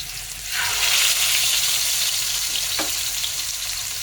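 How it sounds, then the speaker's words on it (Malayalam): Fish frying in coconut oil on a flat tawa over low flame, a loud, continuous hiss and crackle that swells after the first half second and then holds steady, close up. "വെളിച്ചെണ്ണയിലാണ് നമ്മൾ ഫ്രൈ ചെയ്യുന്നത്."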